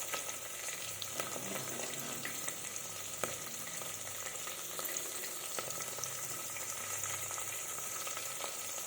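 Crushed garlic and turmeric sizzle steadily in hot oil for a spicy rice dish, with a dense crackling hiss that stays even and close throughout.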